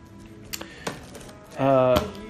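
A box knife slices into a sealed mystery package, giving a couple of quick cutting scrapes and then a longer ripping drag of blade through cardboard and tape, close and fairly loud.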